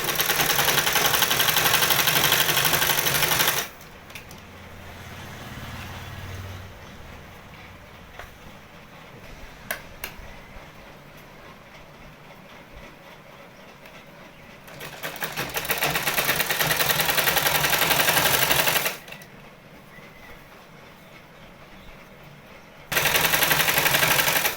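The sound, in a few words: sewing machine stitching the waist of palazzo pants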